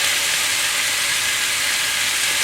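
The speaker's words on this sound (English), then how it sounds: "when the heat too hot, the sizzle too loud" Beef stir-fry with ginger and garlic sizzles loudly in a hot pan, a steady close hiss with no pauses and no voices.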